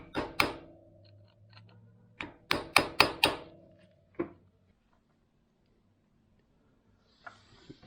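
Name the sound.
screwdriver tapped to peen nut into transmission shaft slot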